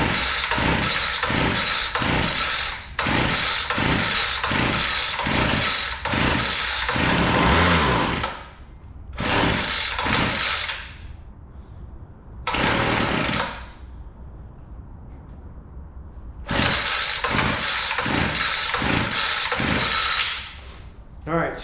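Small gas hedge trimmer engine with the throttle locked open, starting in repeated bursts of fast sputtering running that cut out and restart, close and loud, with brief quieter gaps between runs.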